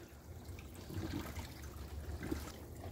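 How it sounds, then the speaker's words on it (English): Dechlorinated water pours into a container to make compost tea for a hydroponic setup, a steady close trickle and splash running throughout without talk. "So we'll fill this up from our dechlorinated water"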